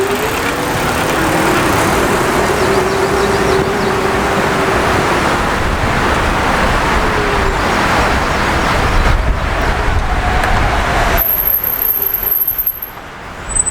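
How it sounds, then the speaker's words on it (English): An ISCOOTER U2 electric commuter bike climbs a hill on throttle alone, with a faint rising-and-falling motor whine under heavy, steady wind rush from riding outdoors; no one talks. "I'll just use the throttle, see how quickly we get up there"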